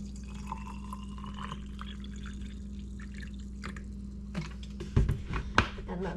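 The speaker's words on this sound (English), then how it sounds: "then I'm going to do the vinegar. This one is going to get apple cider vinegar like the recipe calls for" Apple cider vinegar poured into a jar of cucumber pickles for sweet fermented pickles, a faint, steady trickling over a low constant hum, ending in a few brief clinks and splashes close by.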